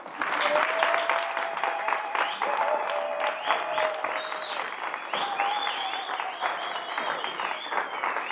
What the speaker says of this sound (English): I'd like you to stand and give Dr. Nasipi Moya a massive round of applause